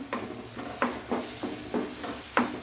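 Carrot halwa being stirred in a pan without sugar, a soft sizzle under repeated scraping strokes of a spoon against the pan at a steady, unhurried rhythm, close and moderately quiet.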